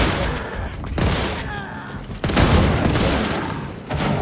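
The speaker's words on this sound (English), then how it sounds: "These shotguns feature interchangeable options to fire all three barrels at once at a reduced rate of fire" A shotgun fires in a first-person shooter game, several loud booming blasts with short decays and reload-like clicks between, separated by brief gaps.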